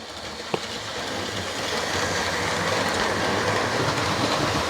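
A Hornby GWR model locomotive runs along its track, a steady rolling rumble with rail clatter that builds slightly and stays close, with one sharp click early on and no speech.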